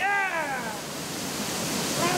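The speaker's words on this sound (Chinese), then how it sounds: "我俩刚才终于看到瀑布了" Steady rushing roar of a waterfall on a river gorge, broadband and continuous, with a brief voice near the start and end.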